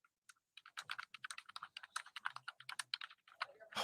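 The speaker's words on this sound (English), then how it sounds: "Oh, stop typing." Rapid, irregular clicking of fingers typing on a computer keyboard in a courtroom, with dozens of keystrokes in quick bursts, faint and close.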